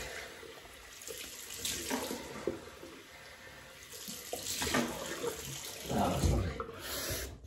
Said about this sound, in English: I'm having a warm water rinse.